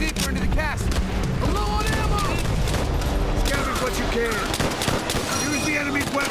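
Dense gunfire in Call of Duty: World at War, a campaign battle with heavy overlapping shots and rattling automatic bursts, loud and unbroken, while voices talk over the din.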